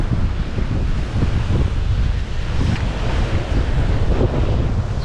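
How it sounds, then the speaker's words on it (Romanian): Ocean waves wash on a wild, rocky beach in Phuket, Thailand, a steady loud roar of surf heavily mixed with wind buffeting the microphone, no talking. "Sunt valuri."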